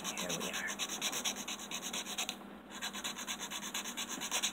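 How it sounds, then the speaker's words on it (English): A nail file rubs back and forth across an artificial nail tip in quick, even strokes, a close, dry scratching rhythm with a short pause midway. "We're also filing back and forth because it's a artificial nail."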